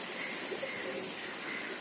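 Soft, low pigeon cooing comes in a few brief murmurs over a steady background hiss, fairly faint and close.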